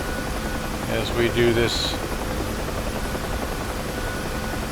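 Helicopter rotor and turbine drone in a DCS flight simulator game, a steady loud whirring wash throughout, with someone speaking briefly over it.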